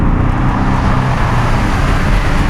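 2016 Porsche 718 Boxster S with a turbocharged four-cylinder engine, heard as a loud, steady, close drone with a low, grainy rumble and road noise, no talking.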